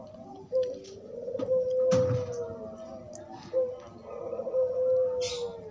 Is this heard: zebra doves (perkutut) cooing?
yes